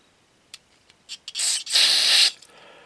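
Cleaner sprayed into a Husqvarna lawnmower: a few faint clicks, then short bursts of spray and a long hissing blast up close, ending abruptly.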